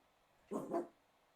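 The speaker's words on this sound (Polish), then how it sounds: "u mnie zaczął pies właśnie szczekać" A real dog barks once, a short, muffled double-pulsed woof from somewhere in the room or nearby, with quiet background before and after.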